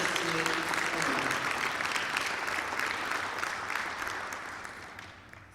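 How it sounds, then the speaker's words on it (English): A crowd claps for several seconds at a 6-12 charter school graduation ceremony, dense and steady, fading slightly toward the end. "give a round of applause to everyone who received the flower"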